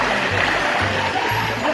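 Sea water splashing and sloshing around swimmers near a beach, a continuous close wash of watery noise with a few low rhythmic pulses over about two seconds.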